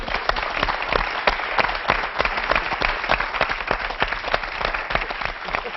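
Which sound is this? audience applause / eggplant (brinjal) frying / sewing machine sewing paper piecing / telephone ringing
audience applause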